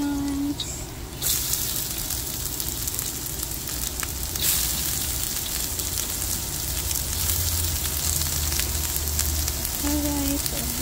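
Onions sizzle and fry in a hot pan for a chicharo and kikiam stir fry, a steady loud crackle that runs nearly the whole time, with faint stirring and a brief voice in the background.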